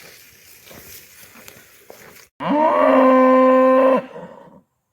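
A cow gives one long, loud, close moo lasting over a second on a farm as the herd is brought in, preceded by quieter shuffling and movement of cattle.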